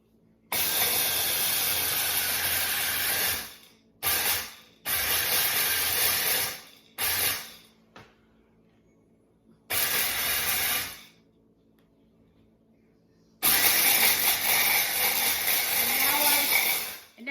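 An immersion blender blending celery: a loud, broadband whirring motor runs in several bursts of a few seconds each, separated by silent pauses, ending with a longer sustained run.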